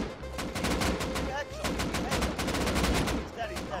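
AK rifle fired in the video game Rust as rapid, loud automatic bursts of sharp cracks that carry on almost continuously, with brief gaps between strings of shots.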